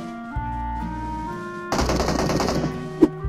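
Automatic gunfire in the mobile battle royale game PUBG Mobile, a fast rattling burst that follows a sustained tonal game sound, then a single sharp impact at the end, loud and with no talk.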